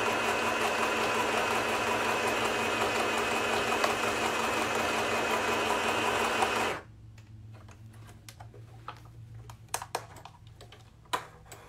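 A Singer M1000 mending machine stitching a back stitch runs with a steady, rapid mechanical whir for several seconds, then stops, leaving scattered light clicks and taps of fabric handling up close.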